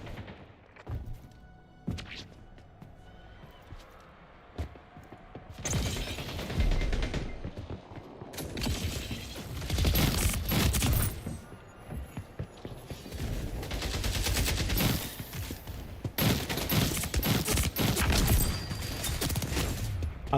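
Gunfire in the online shooter Splitgate 2: loud, dense automatic bursts and single shots mixed with thuds and mechanical clanks, coming in repeated waves over about twenty seconds with no voices.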